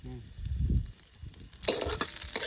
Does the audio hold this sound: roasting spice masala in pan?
yes